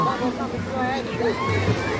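Water sloshes and splashes continuously as people wade and bathe in the Saraswati river, with voices and chatter mixed in throughout.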